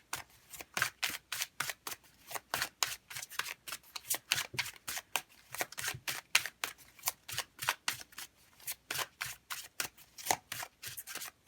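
Tarot cards from the Influence of the Angels deck being shuffled by hand, a steady run of crisp, close riffling slaps repeating every fraction of a second with no voices.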